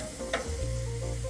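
Steak pressed onto a hot grill for grill marks gives a loud, close, continuous sizzle with a brief hiss flare, and no talking.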